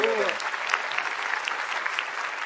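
Studio audience applause on a Brazilian TV talk show, a dense steady wash of clapping from the crowd, with a brief voice at the very start.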